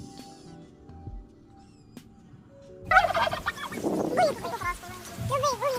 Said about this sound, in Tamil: வான்கோழி பயங்கர சத்தமாக கத்தும்